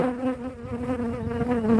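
Honeybees buzz at an open hive during an inspection, a close, continuous droning hum with a wavering pitch and no speech.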